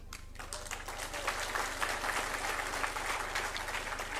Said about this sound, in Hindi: तालियां भी बजाई आपने